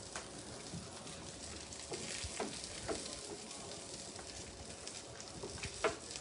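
Butter and minced garlic sizzling in a pan on high heat, a steady close crackling fry with scattered sharper pops and faint stirring, no talk.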